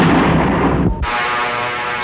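A single loud, sharp gunshot blast in a 1978 Turkish film, with a booming low-end tail that cuts off abruptly, heavy and close.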